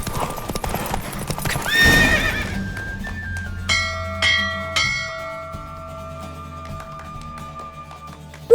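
In The Witcher 3: Wild Hunt, hooves of a galloping horse clip-clop over a rushing, noisy background, the horse neighs, then ringing bell-like tones and chimes follow.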